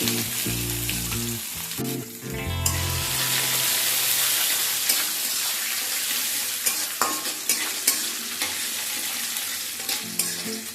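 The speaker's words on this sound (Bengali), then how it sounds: "এগুলোকে তেলের মধ্যে দিয়ে হালকা ভেজে নেব।" Small pieces of coconut drop into hot oil and the pan erupts into a loud, dense sizzle for a banana flower ghonto. After the first few seconds it settles into steady frying, with a few light stirring knocks. Background voices or music sound at the start.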